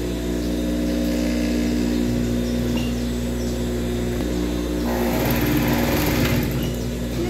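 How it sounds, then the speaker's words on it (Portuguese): An overlock sewing machine finishes the hem of a child's dress with a continuous, even motor whine and buzz that runs steadily throughout, growing slightly busier near the end. "Passa nosso overlock, que é o nosso zigue-zague"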